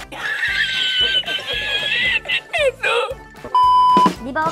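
Horse neighing in the Roblox game Brookhaven during an Easter event, game-style whinnies rising and falling in several bursts amid beeping game sounds and background chatter.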